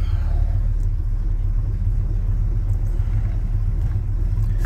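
A pickup truck idles in place to charge its battery, its engine giving a steady, close, low rumble that holds evenly throughout with no revving.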